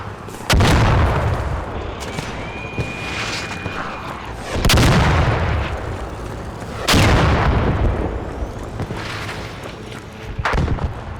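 Rockets detonating in the shooter ARC Raiders: three heavy, booming blasts spaced a couple of seconds apart, each with a long rumbling tail, followed by a smaller sharp impact near the end.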